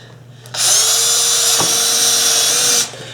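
A power drill drives screws into a wooden bobsled. It gives one loud, close, steady whine lasting a little over two seconds, with a brief dip in the middle, and no talking.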